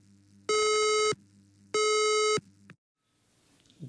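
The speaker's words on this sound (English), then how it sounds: "If you happen to hear this sound, warning, the fire alarm system has operated." A fire alarm system warning tone sounds as two loud, steady electronic bursts of about half a second each, separated by a short gap, then fades to near silence.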